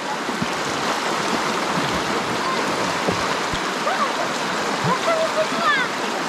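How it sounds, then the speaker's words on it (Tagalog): A strong river current rushes over rocks by a rocky spring in the countryside, giving a steady, loud broadband roar with small splashes throughout, close by and continuous. "Malakas din talaga kapchat yung agos ng tubig, yung ilog."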